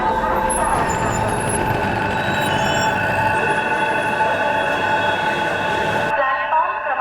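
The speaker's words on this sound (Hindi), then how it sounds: "एक जलद गाडी जाणार आहे." A fast train rushes past a railway platform with a loud, continuous rumble and rattle of wagons, heavy and close, before cutting off abruptly near the end.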